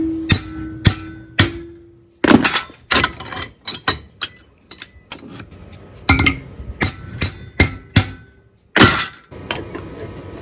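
Sharp metallic strikes ring out in irregular bursts, some ringing on briefly, as a hammer pounds a metal bracket up close to bend it.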